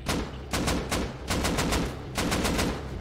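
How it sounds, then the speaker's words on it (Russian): Automatic gunfire in the survival game Rust, four rapid bursts of sharp shots separated by short pauses, loud and close, with no talk over them. "Кто по мне стреляет?"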